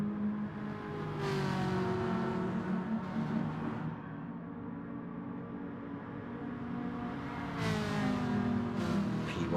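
A liveried Ferrari race car in a sim racing video game drones past under steady engine noise, revs rising and falling through gear changes, with other cars whirring nearby at a moderate distance.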